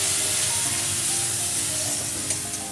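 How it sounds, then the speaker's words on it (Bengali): Kashmiri chilli powder and turmeric frying in hot oil in a pan, a loud, close, continuous sizzle that fades slightly toward the end, with a faint utensil tap and no speech. "একটু মশলাটা ভাজা ভাজা হোক"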